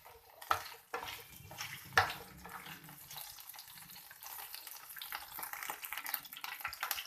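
Capsicum (shimla mirch) frying briefly in hot oil in a home kitchen pan, giving a steady, moderately quiet sizzle with a few sharper stirring clinks early on and no talking.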